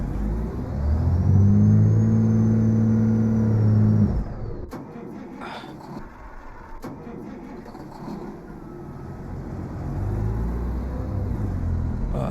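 Truck engine in American Truck Simulator with an 18-speed manual gearbox, droning low and steady for about four seconds, then dropping away before a softer rumble builds again toward the end.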